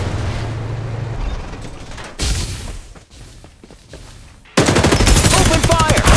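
Bursts of automatic gunfire in the video game Farlight 84 come loud and close in two rapid stretches, one brief and one longer, separated by quieter game ambience.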